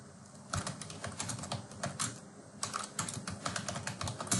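A computer keyboard clatters as a heading is typed out, quick irregular keystrokes in bursts with a short pause midway, close and clear with no talking.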